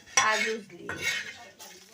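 Chana dal being roasted on an iron griddle over a wood-fired village stove, three quick spatula scrapes and stirs of the dry lentils, close and clear with no talk.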